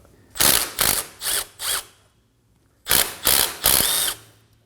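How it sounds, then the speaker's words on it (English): A ratchet with a 12mm socket removing bolts on a 2016-2020 Kia Sorento 2.4L front axle assembly: four quick clicking bursts, a pause, then three more, close and clear. "Now we're gonna go ahead and remove these two 12mm bolts. Using a 12mm socket, go ahead and take those out."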